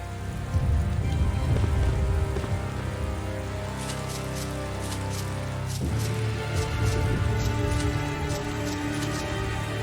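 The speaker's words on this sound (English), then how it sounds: "It's starting to rain." Rain falls in the video game Tales of Xillia, a steady broadband patter of drops on surfaces that holds fairly loud throughout, with a brief dip midway and no voices.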